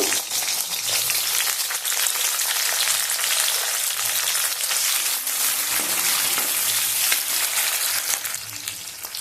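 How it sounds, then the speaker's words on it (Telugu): Onion pieces fry in hot oil for a chicken curry, giving a steady, dense, close sizzle and crackle that holds evenly throughout with no voices. "కొంచెం నూనె కాగుతానే ఎరగడ ముక్కలు"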